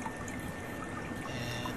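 Subsurface water trickles steadily through small side holes into a basement sump pit, a faint, continuous watery dribble with no other sounds.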